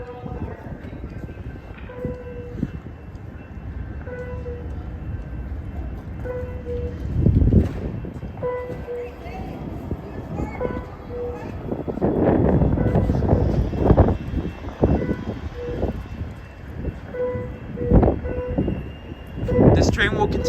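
Amtrak Capitol Corridor train 734, led by CDTX locomotive 6962, stands at a station with a rumbling engine idle and a steady tonal hum, with louder surges of rolling noise and clanks, while people talk throughout.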